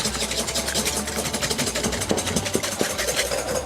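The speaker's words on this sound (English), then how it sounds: "I'm just going to whisk it until it forms soft peaks." Egg white whisked to soft peaks in a bowl, a rapid, steady rhythmic beating with a dense rattling texture, close and continuous for several seconds.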